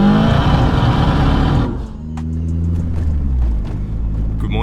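A 260kW 16VT Mk2 GTS revs hard and loud from inside the car, then drops to a lower, steady engine drone as it keeps driving.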